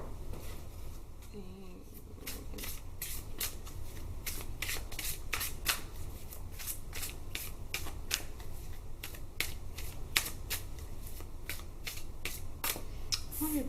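A deck of playing cards is shuffled over and over, a quick, steady run of riffling flutters close and clear, with a brief faint murmur of talk early on.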